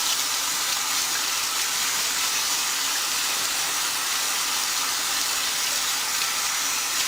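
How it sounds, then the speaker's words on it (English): Tap water runs steadily over hands to rinse off coconut oil, a constant close, loud, even hiss of flowing water with no talking. "I want to wash some of this off because I don't want the oil on the palms of my hands."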